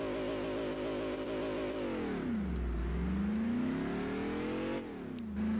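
A Ford F-150 SVT Lightning pickup's supercharged engine in Gran Turismo 4 revs and launches, the engine note climbing, dropping at a gear shift, then rising again, loud and steady.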